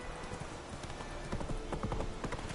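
Hoofbeats of Geralt's horse Roach galloping in The Witcher 3: Wild Hunt, a rapid, close clip-clop rhythm over a steady, noisy game background.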